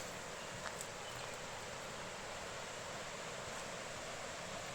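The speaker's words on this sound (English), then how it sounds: "I can certainly hear a waterfall over here" A distant waterfall in Bunyip State Park, Australia, gives a faint, steady broadband gush of water with no talking over it.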